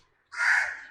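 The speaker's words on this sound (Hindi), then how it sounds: "आपको हमारा कौवा भी शायद बाहर सुनाई दे रहा है।" A single crow caws outside, one short, harsh call at moderate distance, heard alone against quiet.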